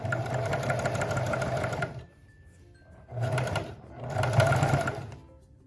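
A sewing machine stitches a dress bodice in three bursts of rapid mechanical whirring, separated by short pauses, close and clear.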